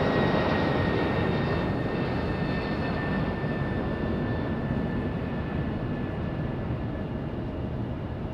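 Jet airliner engines roar at Raleigh Durham International Airport during evening plane spotting, a loud, steady broadband rumble with a faint high whine holding throughout and easing slightly toward the end.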